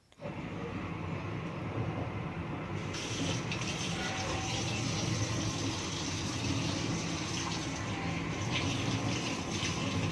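Water gushing steadily from the tap into a train bathroom washbasin aboard an Indian long-distance express, a continuous close rushing splash with a slight shift in tone partway through, and no voices.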